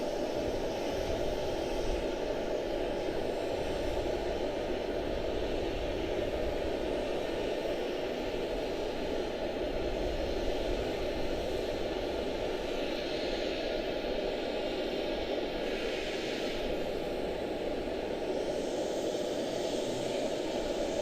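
Aircraft approaching Charlotte-Douglas International Airport, flying right overhead: a steady, continuous broadband engine roar at moderate distance, sustained without breaks and with no talk.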